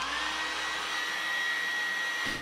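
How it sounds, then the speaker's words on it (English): A hairdryer blows continuously while heating the display of an iPhone XR for screen removal, a steady whirring motor with airy rush and a faint high whine, close and loud, cutting off at the end. "Using a hairdryer, heat the display surface for 1 or 2 minutes."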